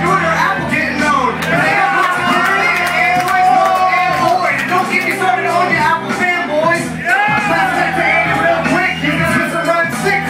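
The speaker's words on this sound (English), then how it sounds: "It's the whole crowd rocking out." A large crowd at a live rap performance at the Recon 2012 conference cheers, shouts and whoops loudly and continuously, with voices and yells rising and falling over a steady roar.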